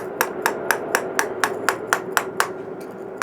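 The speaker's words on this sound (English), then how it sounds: "Now I'll use a flat chisel to come in and" A hammer strikes a flat chisel against stone in an even, steady rhythm, about a dozen crisp, ringing taps close by with no talk.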